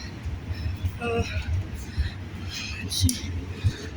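Low rumble and rattle of a tram in motion, a Caf or Düwag tram, steady rolling noise with a soft voice murmuring over it.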